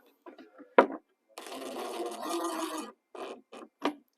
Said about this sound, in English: then you put your last screw right here in the middle